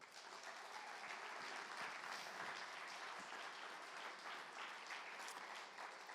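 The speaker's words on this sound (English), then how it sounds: "please give a round of applause to Platform 55" Dense, steady audience applause fills a startup pitch competition finals at a tech summit, loud and unbroken for several seconds with no voices rising above it.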